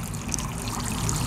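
Water from an AISITIN 10W solar water pump trickles and splashes steadily into an outdoor basin, a close continuous babbling patter with no talk.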